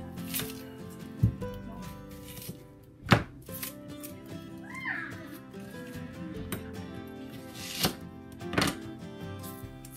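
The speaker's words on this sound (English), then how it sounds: "cut the onion." A knife cuts an onion on a cutting board, with a few separate sharp thunks at uneven intervals over light rustling and handling noise, close by.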